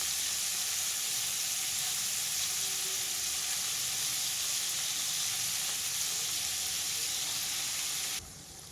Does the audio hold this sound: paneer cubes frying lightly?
yes